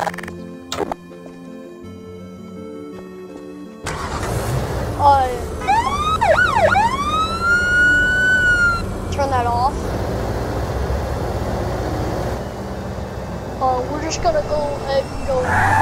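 A police car siren wails in the video game Garry's Mod, rising and falling in loud sweeping tones over engine and game noise, with a voice talking throughout.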